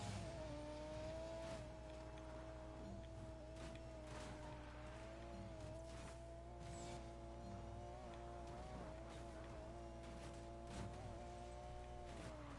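A race car accelerating hard in Need for Speed, its engine holding a steady high whine with shifting pitch and tire noise throughout, loud and continuous with no voices.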